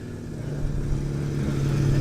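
Classic Jaguar Mark II 2.4 saloon with a straight-six engine passing in a car park, a low steady engine hum rising slightly in loudness as it draws nearer, with no voices.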